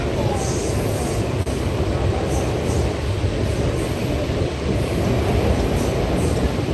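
A passenger train heading to Yeshwantpur rumbles along from inside a carriage, a loud, continuous roar of wheels on rails with faint rhythmic clatter throughout.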